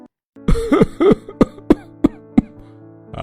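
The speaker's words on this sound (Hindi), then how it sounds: "इतनी खांसी क्यों आ रही है?" Several harsh, close coughs in a row, the first ones rough and drawn out, then shorter sharp hacks spaced about a third of a second apart.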